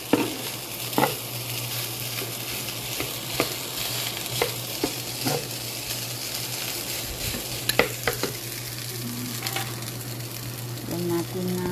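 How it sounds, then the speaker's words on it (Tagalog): Cold rice is stir-fried in a pan with sautéed garlic and onion, a close, steady sizzle running throughout, broken by light scrapes and taps of the spatula stirring. "magluto ako ng sinangag na kanin"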